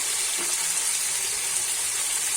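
Ginger paste and tomato frying in a pan while being stirred, a steady, even hiss of sizzling oil with no pauses.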